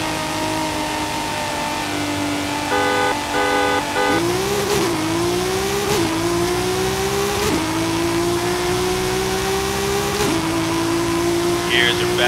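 A 1,000 hp race car with 700 lb-ft of torque and 17 pounds of boost accelerates hard in Forza Horizon 5, its engine note climbing repeatedly through quick back-to-back gear shifts, loud and sustained under a voice.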